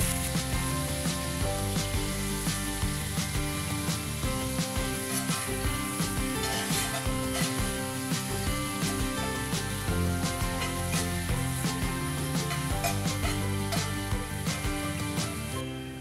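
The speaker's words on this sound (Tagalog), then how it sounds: "Kapag mainit na ang kawali ay maglagay na ng kaunting mantika. Ilagay ang beef strips at lagyan ng asin." Beef strips frying in a little oil in a hot pan, a continuous crackling sizzle that carries on steadily beneath background music for the whole stretch.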